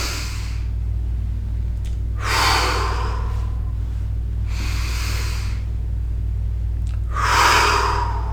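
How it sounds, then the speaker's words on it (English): Slow deep breathing exercise, with long audible inhalations and exhalations repeating in a steady rhythm, close and fairly loud over a low room hum, no talk. "It's a very deep breath."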